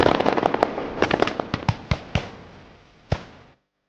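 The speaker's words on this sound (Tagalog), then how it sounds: "muling makarinig ng magkakasunod na putok ng baril" A rapid burst of gunshot sound effects from a narrated Filipino aswang horror story, sharp cracks firing in an uneven series before slowing to a few spaced shots and fading out, with no speech.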